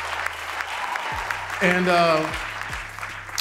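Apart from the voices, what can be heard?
audience applause for Jamie Foxx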